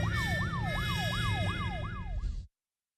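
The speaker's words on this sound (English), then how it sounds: "That, Anna, is the police." A police car siren wails close by in a rhythmic, repeating rising sweep over steady engine and street rumble, then cuts off abruptly.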